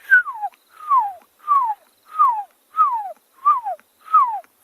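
A person whistles an imitation of an owlet's call, seven separate descending whistled notes with a slight tremolo, evenly spaced and close up, with no other sound around them.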